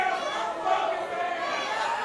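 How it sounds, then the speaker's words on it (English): Wrestling crowd at a Juggalo Championship Wrestling event roaring in sustained, dense crowd noise, with shouts blending into a steady wall of jeers throughout. "crowd absolutely furious with Kerry."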